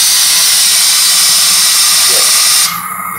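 Flame igniting in a Phoenix PG-986 flame atomic absorption spectrometer: a loud, steady hiss of gas roars throughout, then drops sharply to a quieter hiss near the end.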